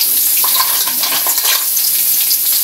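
Mussels sizzling in a hot pan, a dense, continuous frying hiss with faint stirring and water crackle, loud and close, no talking.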